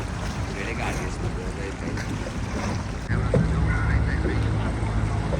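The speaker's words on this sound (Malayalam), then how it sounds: "വാട്ടർ ആംബുലൻസ് ആണ് ഈ വരുന്നത് കേട്ടോ" A water ambulance boat approaches along a Venice canal, its engine rumble and water wash growing louder and nearer partway through, with voices talking over it.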